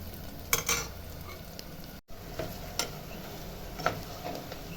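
Garlic sautéing in a pan with already-softened ingredients for a South Indian lunch dish, a steady moderate sizzle with a few scraping stirs and a momentary break partway through.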